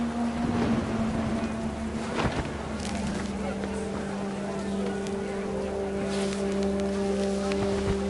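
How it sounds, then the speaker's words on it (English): Heavy rain in the video game What Remains of Edith Finch pours down in a dense, steady hiss, over a low droning hum and scattered sharper splashes. "The rain came down in buckets then"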